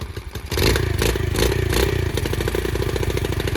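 A pit bike motorcycle engine starts up and runs steadily with a rough, throbbing mid-pitched note and rattling clatter, loud and close, with no talking.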